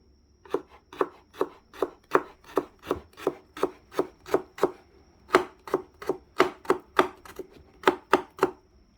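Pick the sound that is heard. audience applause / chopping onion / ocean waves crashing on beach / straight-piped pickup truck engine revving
chopping onion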